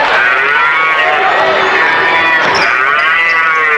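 A cow moos loudly and steadily as a sound effect in a radio advertisement for a Chevrolet car dealership, with a long drawn-out call filling the clip and no talk over it.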